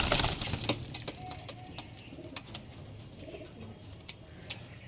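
Pigeons in a loft coo softly with scattered faint clicks and wing rustles, the calls fairly close but low in level, no talk.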